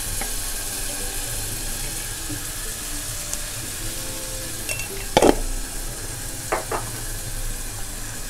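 Onion sautéing in oil in a pan, a soft constant sizzle with one sharp utensil clank midway and a couple of lighter taps after.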